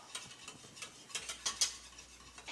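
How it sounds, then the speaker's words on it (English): Cornmeal mixture whisked in a pot, a quiet series of quick rhythmic whisk strokes with light taps against the metal, close and faint. "I'm just doing a little bit at a time, whisking as I go"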